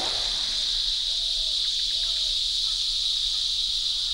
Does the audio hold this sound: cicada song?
yes